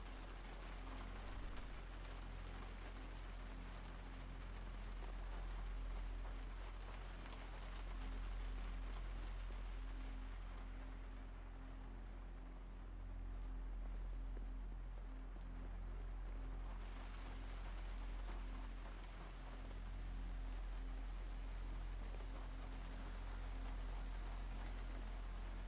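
Steady rain falls in the survival video game Project Zomboid, a continuous soft hiss with a low rumbling bed, unchanging and quiet throughout with no voices.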